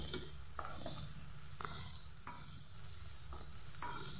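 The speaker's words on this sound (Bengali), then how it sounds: "এর মধ্যে দিয়ে দেব তো পেঁয়াজ কুচি" Chopped onion frying in melted butter gives a steady close sizzle with faint stirring scrapes now and then, no voices over it.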